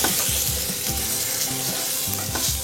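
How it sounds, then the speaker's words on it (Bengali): Raw green mango pieces frying with salt and turmeric in a pan, a steady close sizzle with soft rhythmic stirring scrapes throughout, no voices. "অল্প একটু নুন আর ভাজার মতন একটু হলুদ দিয়ে এটাকে ভালো করে আমটাকে ভেজে নেব।"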